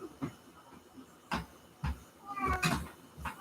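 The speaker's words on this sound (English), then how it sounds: "It's a cat." A cat meows a few times, faint and a little distant, among soft scattered knocks and background noise, with no clear talk over it.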